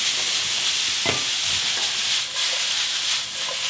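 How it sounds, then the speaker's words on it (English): Chicken stir fry sizzles loudly and steadily in a hot pan, a broad hiss with light scraping and stirring noises close by. "A little bit of stir fry."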